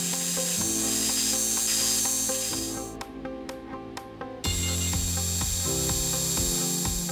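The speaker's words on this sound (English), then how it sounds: "the next step was to form center holes on each end of the stock" Machine tool forming centre holes in the ends of silver steel stock in a home machine shop: a close, steady tonal hum with grinding and ratcheting, then a brief lull with a few clicks before running on again.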